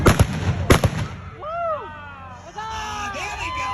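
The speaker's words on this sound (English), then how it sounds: "Now we're going for the blunderbusses." Blunderbusses fire at a pirate show at the King County Fair in Washington: two sharp, loud blasts about half a second apart, followed by whistles and cheering from the crowd.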